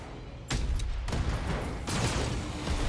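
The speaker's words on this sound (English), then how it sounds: "Ooh, nice ammo explosions." Ammo explosions in the BattleTech video game: a loud, dense run of rumbling blasts and crackling bursts that swells in waves with no pause across the clip.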